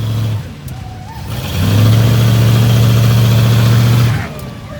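A 4x4 truck engine revs loudly in a failed burnout, rising from idle to a long sustained high-revving roar before dropping back, close and dominant.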